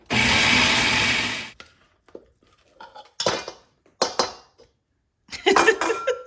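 A countertop blender purees onions in a home kitchen, a loud, dense whirring burst lasting about a second and a half before cutting off abruptly, followed by a person talking and a few light kitchen clatters.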